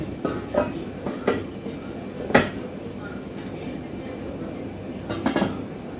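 A pan being set down into a pot of heated water, producing a few close metallic clanks and knocks spread across the moment, the loudest near the middle, with faint background noise between them.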